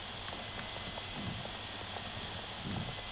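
Horse hooves clip-clop in a steady walking rhythm in the video game Star Stable, quiet and continuous over a faint background hum, with no talking.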